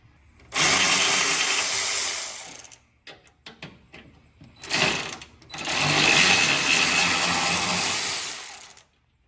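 Power driver with a T40 bit unbolting bolts on a 2023 police Road King motorcycle, two loud close bursts of high-pitched whirring and ratcheting separated by short clicks and handling noise.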